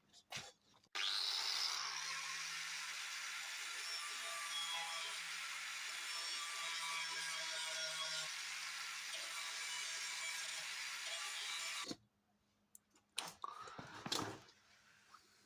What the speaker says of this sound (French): on va sortir la meuleuse, on va meuler gentiment le rivet par devant